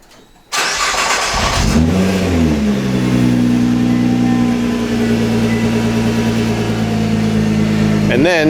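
A Nissan R35 GT-R fires up by remote start after a brief quiet moment: the starter catches, the engine flares with a loud rev, then settles into a steady, rumbling idle close by.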